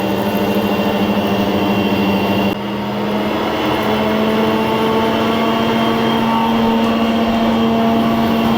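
A metal lathe turns a steel drawbar for a Harrison mill at 120 RPM, giving a steady, close, continuous mechanical hum with a constant tone and no speech.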